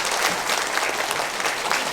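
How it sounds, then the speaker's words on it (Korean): Dense, steady applause from a crowd, loud and continuous throughout. "큰 박수 부탁드립니다."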